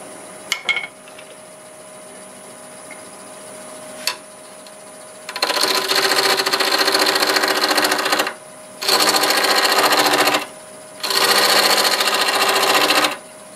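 Wood lathe spinning at about 850 RPM while boring a hole in a turned wooden piece, heard as three loud, steady whirring bursts of several seconds each, separated by short pauses, after a few faint clicks.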